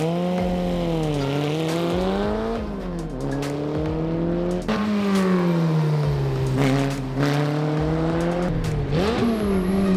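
Car on a racetrack, engine droning loud and close with harmonic pitch that dips and climbs through repeated gear changes and throttle lifts, steady motor noise throughout and no speech.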